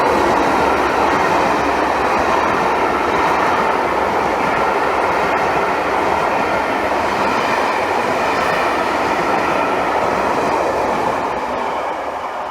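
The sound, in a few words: locomotive 67021 hauling a train from Victoria to Bath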